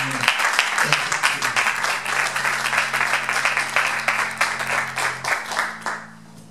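A church congregation applauds and cheers the Lord in rhythmic clapping that fills the room, steady and loud for about six seconds before thinning out, with a low organ or keyboard drone underneath.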